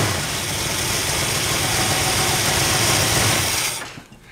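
A car engine idles steadily and loudly up close during tuning with a vacuum gauge, a continuous rough rumble that cuts off abruptly near the end.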